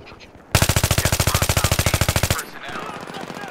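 A fast automatic weapon fires one sustained burst of about two dozen evenly spaced, loud, close shots in Battlefield 3 multiplayer Conquest on PC. It then cuts off, leaving a softer rumble of game ambience.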